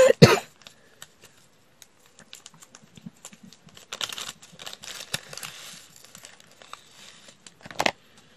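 A single sharp cough at the start, followed by scattered soft clicks and taps, then another brief burst near the end; no speech.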